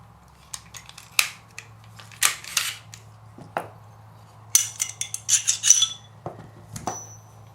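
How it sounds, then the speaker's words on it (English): Mechanical clicks and snaps from an XD 9mm pistol as its trigger is pulled and the sear released during a Powder River Precision match trigger kit install, a few sharp metallic clicks spaced out over a low steady hum, close and fairly quiet. "we're going to engage palm safety and pull the trigger"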